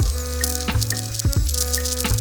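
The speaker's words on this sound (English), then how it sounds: "Add those onions. Cook those up until they're nice and golden" Onions frying in oil in a pan on a burner, a loud steady sizzle with bright crackling bursts and a few sharp stirring or scraping knocks, with no talk over it.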